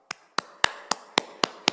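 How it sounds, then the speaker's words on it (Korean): Seven sharp percussive bursts evenly spaced about a quarter second apart, a slow rhythmic clapping at a Christmas dawn service in a church, close and moderately loud with no talking. "우리 하나님 앞에 영광의 박수 같이 올려드리겠습니다"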